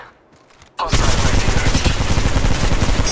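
Automatic gunfire in Apex Legends Mobile erupting after a short quiet moment, then a loud sustained rattling burst of rapid shots that keeps going to the end.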